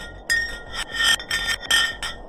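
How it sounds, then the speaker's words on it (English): A block of ice dropped down a deep Antarctic borehole produces a series of rhythmic, ringing, glassy pulses with high metallic tones, repeating about every third of a second, loud and close. "The pitches changed over the quick descent of the block of ice, ranging from high pitch and ending with a low heartbeat-like sound."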